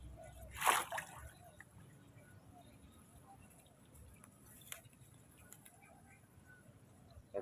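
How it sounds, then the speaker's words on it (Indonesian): Bamboo lowered into salt water to be preserved, making a brief splash and slosh near the start, then quiet trickling and soft outdoor ambience for the rest. "Kita masukkan ke air teman-teman"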